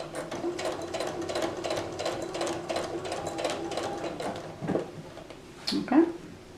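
A sewing machine stitches binding onto a crochet blanket, running in a fast, even whir of needle strokes, then slowing to a few clunks and stops near the end.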